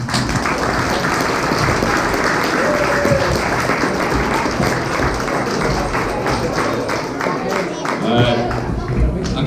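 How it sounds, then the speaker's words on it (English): A crowd at a Preston City football club presentation night claps for two coaches, with dense, continuous applause holding steady throughout, mixed with some crowd noise. "So can you give Leon and Dan a big clap, please?"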